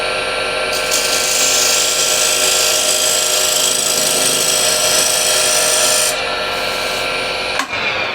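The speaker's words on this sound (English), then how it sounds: "I'll just clean that up with a refiner" A refiner tool scrapes a ridge on wood spinning on a lathe, a steady, close, hissing scrape that runs without a break for several seconds before stopping abruptly.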